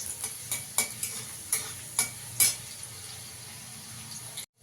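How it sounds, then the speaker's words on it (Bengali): Garlic frying in hot oil in a pan for a vegetable mash, a steady low sizzle broken by several sharp scrapes of a spoon stirring against the pan, no voices. "রসুনটাকে একটু লাল করে ভেজে নেব।"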